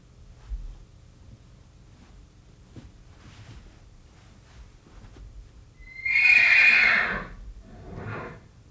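Horses answer one another with a loud, drawn-out whinny and then a shorter second neigh, both near and clear over a quiet stable background during imprinting work with a frightened foal.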